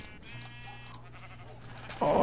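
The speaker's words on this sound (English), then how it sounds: "Was that the sheep or was that you?" A sheep bleats in the Minecraft video game, a single drawn-out nasal bleat heard fairly clearly before a sudden louder noise cuts in at the end.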